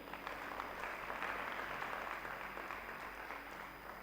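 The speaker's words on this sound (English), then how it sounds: "can we give Dr. Abel once again a round of applause?" An event crowd gives a sustained round of applause, even and continuous clapping from many hands lasting several seconds at moderate level.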